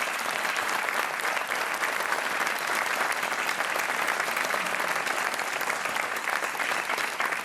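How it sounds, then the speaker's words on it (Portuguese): A studio audience on the Portuguese TV quiz show Joker applauds a contestant, a dense, steady wash of clapping that holds at full strength from start to finish with no voices over it. "Um aplauso para o Paulo,"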